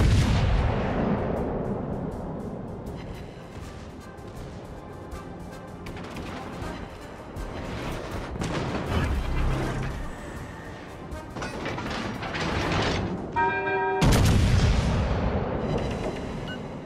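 Artillery fire support in the naval battle game World of Warships: Legends, heavy booming salvos and crashing impacts rolling across the scene, with dense layered blasts and a sharp loud burst near the end.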